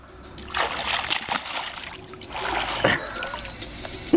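A water bug diving and splashing, giving soft trickling and splattery water sounds in a few bursts, close by and fairly quiet.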